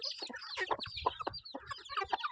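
Chickens clucking and murmuring close by as they eat feed, a busy run of short overlapping calls, moderately quiet, with no talk.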